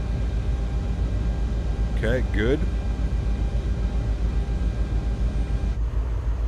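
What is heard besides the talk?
twin jet engines of Aerosoft CRJ900, Microsoft Flight Simulator video game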